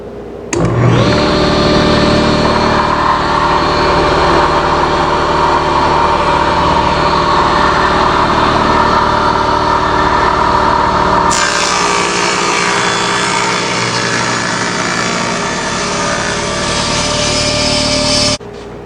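Power saw whining loudly as it cuts jagged ends off a scrap wood cutting board, a steady high-pitched motor drone that starts abruptly, shifts in tone midway, then stops.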